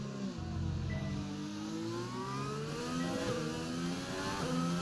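An F1 race car engine in the F1 2020 video game revs and shifts through the gears. Its pitch climbs and drops repeatedly in smooth sweeps, heard steadily and fairly quietly, with no talk.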